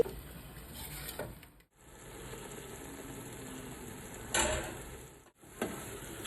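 Green paste for Dindigul thalappakatti chicken biryani frying in oil in a pan on a medium flame, a soft steady sizzle with occasional stirring scrapes and clinks, a couple of brief dropouts.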